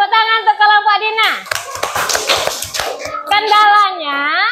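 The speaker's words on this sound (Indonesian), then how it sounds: "Tepuk tangan untuk kelompok Dina." Classroom applause for a student group: a couple of seconds of lively clapping from many hands, with voices on either side.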